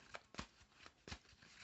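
Tarot card deck being shuffled by hand, several quick riffling bursts at an uneven rhythm, close and fairly quiet, with no talk.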